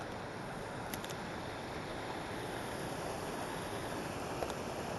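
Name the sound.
waterfall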